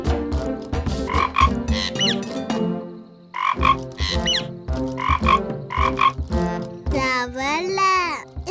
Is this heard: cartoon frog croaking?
yes